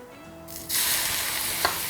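Hot oil at medium heat poured over minced garlic and dried shallot, a sudden loud close sizzle that bursts in and holds steady, with a small clink near the end.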